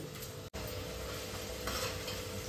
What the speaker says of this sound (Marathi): बघा टोमॅटो कांदा तर झाला फ्राय